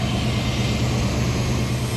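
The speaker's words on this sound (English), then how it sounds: "Engine's firing." A Jeep CJ7 engine running steadily at idle, a continuous low rumble heard up close with no talking.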